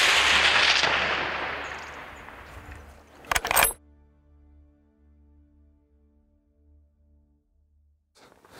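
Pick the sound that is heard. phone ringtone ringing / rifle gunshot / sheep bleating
rifle gunshot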